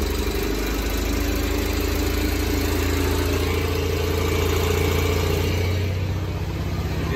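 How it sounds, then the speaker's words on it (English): A Fairmont MT-19 railcar engine idles steadily near a turntable, a loud, close, continuous low rumble with no one talking. "I'll start the car"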